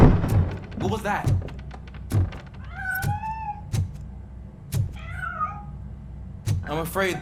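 A cat meows twice in the Robocop: Rogue City video game, short rising-and-falling cries amid a series of sharp thumps and clunks, fairly near and clear, with game speech around them.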